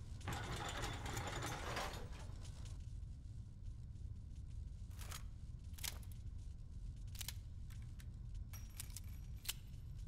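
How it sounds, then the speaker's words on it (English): Metallic winding clicks and ratcheting as a gun is wound up in the horror game Nightmare of Decay, a faint, close series of jangling mechanical ticks over a low steady ambient hum. "every time I forget that you need to fucking wind this gun up"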